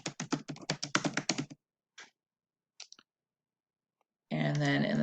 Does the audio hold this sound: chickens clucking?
no